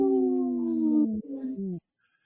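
A wolf howls in a long, drawn-out tone, briefly breaks, then continues with a second falling howl before cutting off into silence, loud and close.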